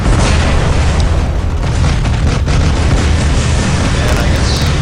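Bug scatter weapon firing in a Shenzhen deathmatch video game, loud continuous booming blasts and bursts filling the whole stretch with dense explosive rumble, with no talk over it.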